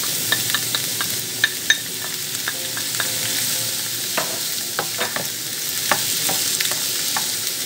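Mushrooms fry with sliced onion in a pan, a close continuous sizzle broken by frequent small spatula clicks and scrapes as they are stirred, with no voices.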